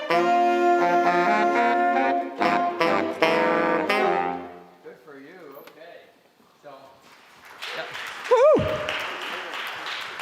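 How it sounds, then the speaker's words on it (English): A full saxophone section from a school winter jazz ensemble plays a tune in concert, a loud, bright ensemble passage for about four seconds before it breaks off into quieter room noise and scattered stage sounds. "That's the sound of a full saxophone section."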